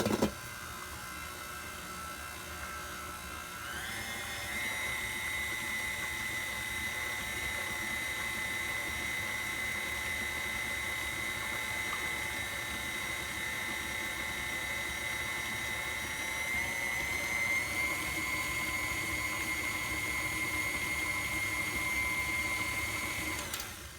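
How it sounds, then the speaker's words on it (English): An electric mixer whirs steadily through peanut butter cookie dough, its motor whine jumping in pitch after a few seconds and holding a constant hum, close and alone. "That way the mixer doesn't have trouble with it."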